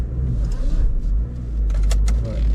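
A Vauxhall Meriva drives off, heard from inside as a low engine rumble with road noise and a few brief rattles or clicks, fairly close and steady, with no talk.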